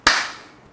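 A single sharp hand clap, close and loud, ringing out briefly and then decaying, with nothing else sounding.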